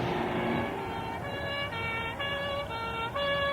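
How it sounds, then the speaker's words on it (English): A police car siren sounds at moderate distance, repeating steady wailing tones over a low hum of road noise. "George, it's a police car. He wants you to stop"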